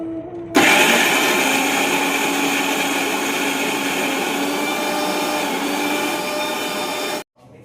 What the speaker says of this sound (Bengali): জল না দিয়ে পিসবো, মিহি পিসবো। চলো এটা পিষে নিই।